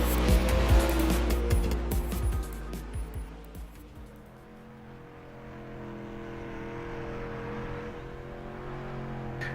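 Street stock race cars roar on a dirt track at Cedar Lake Speedway in a sim racing game, loud engines revving with sputtering pops, then easing into a steady lower drone.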